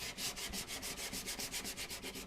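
Sandpaper rubbing over ebony on the side of an acoustic guitar during pore filling, a steady back-and-forth scrubbing of about fourteen even strokes, close and alone.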